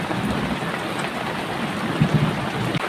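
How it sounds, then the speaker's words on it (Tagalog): Heavy rain pours down during a thunderstorm outside a small shop, a dense continuous hiss of drops with no thunder clearly standing out. "Talaga napakalakas ng ulan, lakas pa ng mga kulog at kidlat."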